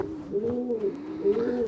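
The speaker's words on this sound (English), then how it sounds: "You can see the pigeons now wanting to have a drink" Racing pigeons coo softly and repeatedly close by, low throaty calls overlapping in a gentle rolling rhythm.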